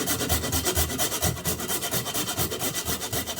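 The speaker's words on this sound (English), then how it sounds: "we are going to grate nutmeg directly on there" Whole fresh nutmeg grated directly over butternut squash ravioli, a close, steady rasping scrape repeating in quick regular strokes with no voices.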